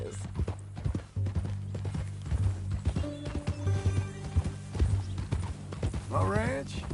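Horse hooves clip-clopping in Red Dead Redemption 2, a steady rhythmic series of hoof strikes close by, joined by a horse's whinny and a low tonal drone, with characters talking partway through.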